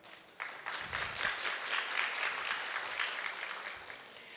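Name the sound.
audience round of applause at congress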